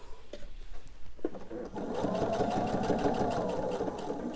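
A sewing machine stitches down a quilt binding, starting after a short quiet moment and then running steadily and close by with a continuous rapid needle chatter.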